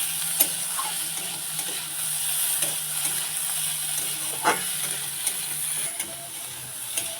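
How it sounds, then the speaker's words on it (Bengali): Fried prawns being stirred and sautéed in a pan sizzle steadily, with occasional sharp scrapes and clicks from the stirring utensil against the pan, close and without talk. "দিয়ে দেবো যে ভেজে রেখেছিলাম চিংড়ি মাছটা, দিয়ে ভালো করে কষিয়ে নেব"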